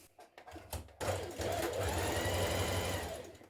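A few tentative clicks give way to a sewing machine running steadily at speed, stitching the side seams of a top made from fabric scraps, its motor whir loud and close.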